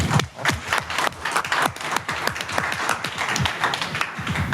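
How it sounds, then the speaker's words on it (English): Audience applause at a conference session, scattered but brisk clapping from a modest crowd, distinct individual claps audible close by. "Round of applause."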